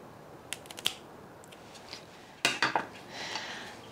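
Pruning shears snip through a Scindapsus plant stem near a node, giving a few sharp close clicks, then a louder crisp cut followed by rustling of the leaves.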